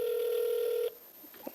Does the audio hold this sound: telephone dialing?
yes